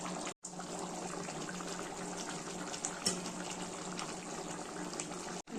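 Hot water poured into a cooking pot of potato curry makes a soft, steady liquid rush and bubbling that runs continuously and fairly faint, with two brief dropouts.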